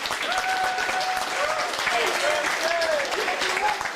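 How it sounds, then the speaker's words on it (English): Steady applause rolls through a high school sports awards ceremony audience, with cheers and whoops rising above the clapping and voices mingling underneath. "Clap it up now, clap it up."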